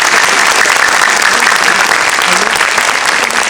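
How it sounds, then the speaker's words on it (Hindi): A crowd at a Brahma Kumaris New Year gathering in Chhatarpur claps loudly and continuously after a poem recital, a thick, even wash of applause lasting a few seconds. "अगर बाग बाग हो गया तो तालियां जोर से बजाएं।"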